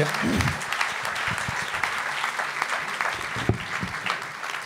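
An audience at a conference on horizontal governance gives sustained, steady applause to a panel of five speakers, dense and fairly even throughout without voices.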